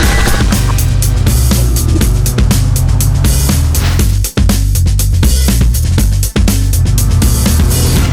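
A 2013 Cadillac XTS with a 3.6-liter 304-horsepower V6 idles under the open hood, a loud, close, continuous engine drone with a couple of brief dips.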